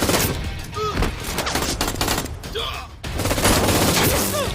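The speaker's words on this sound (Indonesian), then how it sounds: "terjadi baku tembak yang sengit di antara mereka" Gunfire in a heated film shootout, dense bursts of shots and rattling fire running nearly the whole way, loud and close, with brief voices cutting in between volleys.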